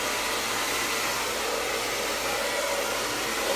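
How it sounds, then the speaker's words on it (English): A hair dryer blows continuously at close range, a loud, steady whooshing roar with no pauses. "I can already feel this hair dryer so hot."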